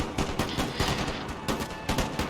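Puckle guns firing in the video game Empire: Total War: a rapid, dense volley of overlapping gunshots, loud and near, repeating in quick bursts with no pause.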